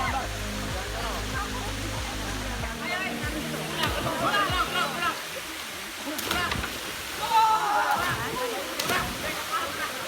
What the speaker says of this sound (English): this is Kembang Soka Waterfall and it is so nice